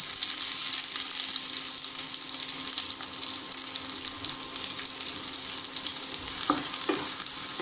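Chopped onion fries in hot oil with two cloves and two pieces of cinnamon, giving a continuous loud sizzle and crackle, with a few spoon scrapes near the end and no talking.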